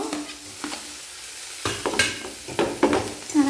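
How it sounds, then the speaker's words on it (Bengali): Ginger and garlic paste with tomato frying in oil, stirred in a pan for vegetable chop filling: a soft sizzle broken by repeated close spatula scrapes and clatters, growing busier toward the end. "তেলের মধ্যে নাড়াচাড়া করে নেব"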